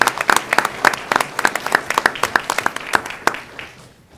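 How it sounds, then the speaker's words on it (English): An audience at a school board meeting applauds for a student called forward, with sharp individual claps ringing out in a steady rhythm before thinning and fading at the end. "Applaud for him"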